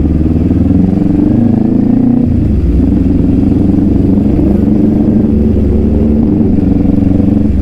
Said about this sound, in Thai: ZX10 ข้างหลังนะฮะเสียงมาเลย